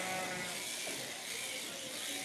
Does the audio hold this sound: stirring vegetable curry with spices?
no